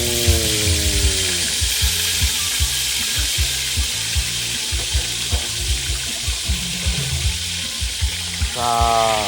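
Fish frying in boiling oil, a loud continuous sizzle with a rhythmic series of knocks, and a rising whirring tone at the start and the end.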